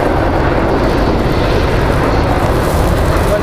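Mil Mi-26 heavy helicopter flying at the MAKS-2011 airshow, a loud close continuous engine and rotor roar that holds steady throughout with no voices.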